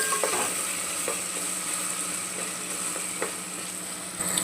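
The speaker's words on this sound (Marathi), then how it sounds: "आपण परत एकदा याला चांगलं हलवून घेऊया।" Tomato, onion and mixed vegetables fry for pulao in a pan, a steady hiss of sizzling oil broken by a few soft stirring scrapes, close and without voices.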